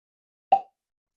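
A single soft cork pop as a Basil Hayden Red Wine Cask Finish bourbon bottle is uncorked, short and close, with silence before and after.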